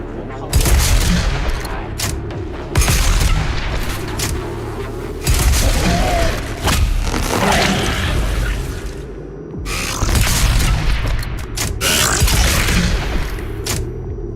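Loud, dense gunfire and booming explosions from the video game Doom Eternal, in sustained bursts with brief gaps between them, played close and full.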